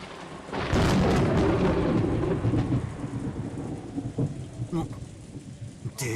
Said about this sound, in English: That last thunder was loud.